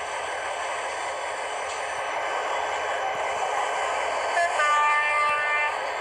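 A train in the Trainz Driver simulator rumbles at a steady drone, with a brief sustained tonal horn or whistle near the end.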